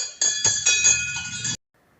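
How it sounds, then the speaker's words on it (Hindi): A village temple bell rings during worship with several bright, close strikes whose metallic ringing overlaps, then stops abruptly, leaving near silence. "तो अभी सब लोग पूजा कर रहे होते हैं, घंटी बजा रहे होते हैं।"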